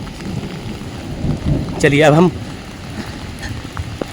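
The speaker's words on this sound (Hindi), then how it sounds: "ये देखो, अभी भी बारिश लगातार चल रही है।" Heavy, steady rain falling in a remote mountain village in Almora, Uttarakhand, a constant close hiss and patter throughout, with someone briefly speaking over it midway.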